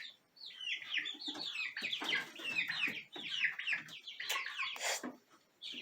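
Chickens cluck and chirp continuously at close range in a backyard flock, with overlapping calls and occasional louder squawks and no talking.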